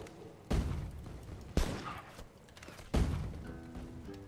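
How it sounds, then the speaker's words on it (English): Three sharp booming shots ring out at uneven intervals in the Planet Coaster game as pirates fire guns, each a loud thud that decays quickly, with a faint tonal game sound near the end. "This is for pirates that are shooting."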